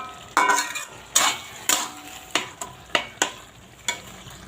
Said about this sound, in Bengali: ভালো করে একটু নাড়িয়ে নেব।